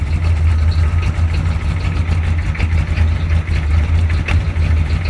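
A 1983 Chevy 6.2 diesel engine idles rough while cold, giving a steady, loud, close low rumble with a slightly uneven throb throughout.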